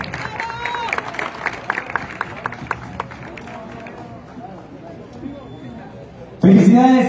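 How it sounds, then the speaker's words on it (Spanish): A crowd at a recognition ceremony for Los Dos Carnales in San Pedro, Coahuila bursts into loud, dense applause near the end, after a stretch of busy background crowd noise with scattered claps. "¡Un el aplauso, por favor!"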